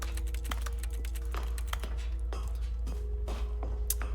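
Keys clatter in quick, irregular keyboard typing inside the video game The Stanley Parable: Ultra Deluxe, crisp close clicks layered over a low steady hum and soft tonal background.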